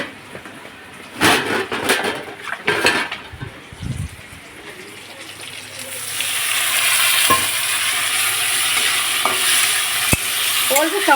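Prawns dropped into a hot pan and stirred, starting with scraping, clattering stirs and splashes, then settling into a steady, loud sizzle punctuated by a few sharp clicks.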